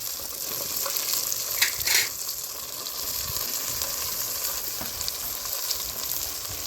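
Long brinjals frying in a pan for a village-style curry, a steady, close sizzle with brief louder spatters near the start and no talk over it.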